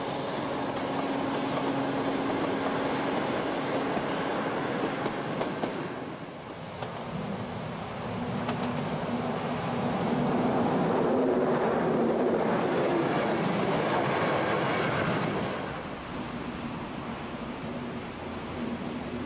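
A V180 diesel locomotive on a farewell run climbs the southern Rennsteig ramp in the Thuringian Forest in fog. Its engines give a loud, steady roar and drone that swells midway and then eases slightly, with no voices.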